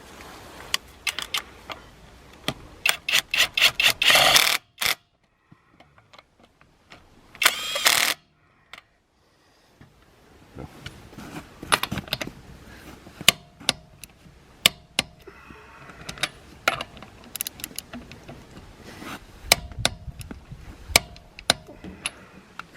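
Cordless impact wrench tightening at speed 1 gives two close bursts of rapid hammering rattle, the first long and the second short, followed by scattered clicks and handling knocks.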